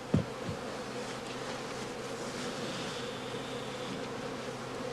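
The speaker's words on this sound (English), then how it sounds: "The skeps are bounced rhythmically in order to drive all the bees into the empty skep" Honey bees drummed out of one straw skep into an empty one give a steady, dense buzzing drone that holds throughout, with a sharp knock near the start.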